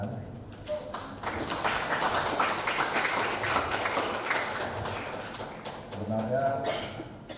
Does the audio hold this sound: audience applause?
yes